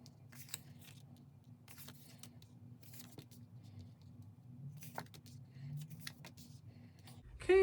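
Tarot cards riffle and snap softly in irregular bursts while being shuffled and cut over a low background hum, close and fairly quiet.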